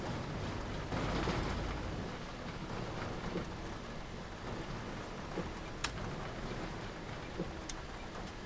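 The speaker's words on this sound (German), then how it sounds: "Oh, regnet aber ganz gut hier." Steady heavy rain in the bus simulator OMSI 2 during a storm warning: a dense, even hiss with a few faint drips and clicks, nothing else over it.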